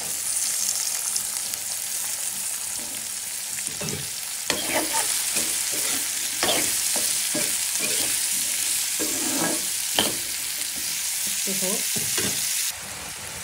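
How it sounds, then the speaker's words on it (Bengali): Potatoes and carrots fry in a pan with a little turmeric, giving a loud steady hiss of sizzling oil under irregular scrapes and knocks from stirring, until the sizzle drops abruptly near the end. "একটু ভেজে নেব। দিয়ে দিলাম আলু, গাজর,"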